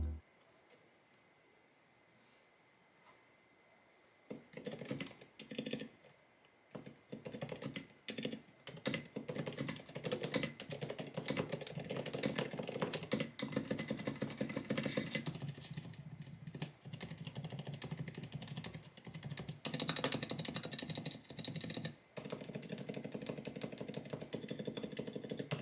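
A custom mechanical keyboard is typed on in rapid, uneven clicking runs after a few quiet seconds, with a low engine-like rumble underneath.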